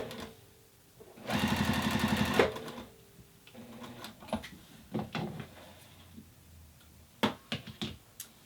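A sewing machine runs in one fast, steady burst of stitching lasting about a second, during free-motion quilting practice, then falls quiet apart from scattered clicks and light handling knocks of fabric and machine.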